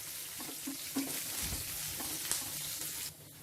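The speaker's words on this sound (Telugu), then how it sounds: "ఈ ఉల్లిపాయ ముక్కల్ని ఒక 2 నిమిషాలు ఇలా కలుపుకుంటూ ఫ్రై చేసుకోవాలి" Onion slices with a few curry leaves sizzle steadily in hot oil in a pan, with occasional soft scraping and clinks as they are stirred, close and fairly quiet throughout before cutting off near the end.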